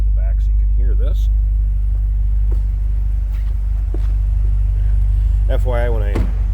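A Chevrolet Corvette Z06 idles with a deep, steady engine and exhaust rumble, close and loud throughout, while someone talks briefly over it.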